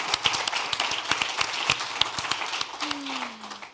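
A convention audience breaks into applause, a steady spread of clapping with sharp individual claps standing out, carrying on for several seconds and thinning toward the end, with a low hum beneath.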